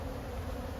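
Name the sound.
honey bees buzzing in a hive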